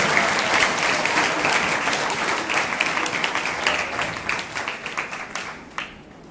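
Audience applause at a prayer festival in Faisalabad, a broad crowd clapping steadily that gradually thins and fades toward the end.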